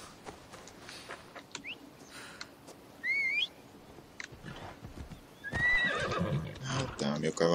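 A horse in the video game Assassin's Creed Odyssey whinnies and neighs among clip-clopping hooves, with whistling and bird calls around it and someone talking over the scene.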